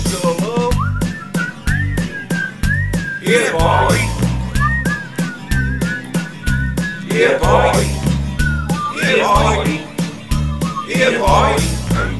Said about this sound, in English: Whistling so low